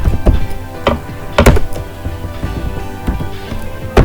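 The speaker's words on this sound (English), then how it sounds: "I am typing one more date." A date being typed on a computer keyboard while working in MS Excel: irregular, close-up key taps and thunks, some louder than others, with short pauses between bursts and no talking.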